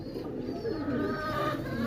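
Pigeons kept for sale coo close by, soft repeated throaty calls overlapping in a steady murmur for about two seconds, with no talk.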